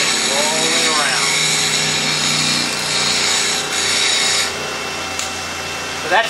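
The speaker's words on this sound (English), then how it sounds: "So that's how you can freehand sharpen these if you want to." A detail spinning gouge is sharpened freehand against a powered grinder, producing a steady, loud grinding hiss that rolls and shifts in tone as the tool is turned, easing off near the end.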